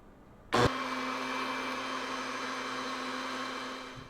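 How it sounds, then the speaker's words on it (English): A blender switches on abruptly and whirs steadily at low speed while blending hot birria chili sauce for brisket birria tacos, a loud, close, even motor drone after a brief quiet start. "you turn the blender on"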